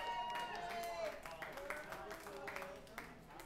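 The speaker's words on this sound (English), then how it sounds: "let's just give him a round of applause anyway" A crowd at Pisgah Brewing claps in a round of applause during a live music show, scattered, uneven hand claps mixed with chatter and a lingering tone, fairly quiet and heard over talking.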